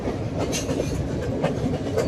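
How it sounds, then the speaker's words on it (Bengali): Train running on the Nuwara Eliya to Ella line in Sri Lanka, a continuous loud rumble with rhythmic clickety-clack of wheels over the rails, heard from on board. "আর ট্রেন তো ছেড়ে দিয়েছে, এখন চলতেছে।"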